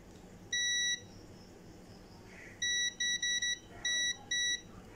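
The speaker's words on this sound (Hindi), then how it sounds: "देखिए यहाँ पर बीप चल पड़ रहा है बीप चल रहा है" Sharp electronic beeps from a multimeter in continuity mode as its probes touch points on a mobile phone circuit board: one long tone, then a cluster of short repeated bursts and two more, loud and close in a quiet room.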